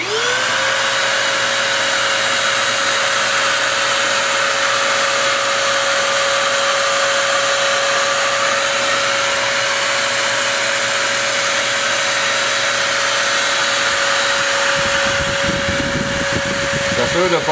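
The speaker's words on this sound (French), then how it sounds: "On a laissé sécher une quinzaine de minutes avant de passer à la balayeuse pour s'assurer que le fond est pris." A sweeper runs steadily while vacuuming excess infill off artificial turf, a loud continuous motor whine holding one pitch before winding down near the end, with a voice speaking over it.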